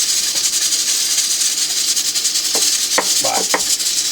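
Potato frying in a pan on the stove in a rustic log cabin kitchen: a steady, bright sizzle and hiss throughout, with a few soft clinks of utensils near the end.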